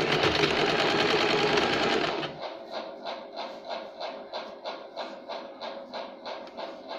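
A sewing machine stitches the lining of a katori blouse, running fast and dense at first, then slowing after a couple of seconds into an even, rhythmic run of distinct stitch pulses, close and steady with no talk.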